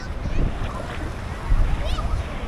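Strong waves at Bang Saen beach in Thailand wash in at evening with rough wind noise, rolling surges close by and a few faint background sounds.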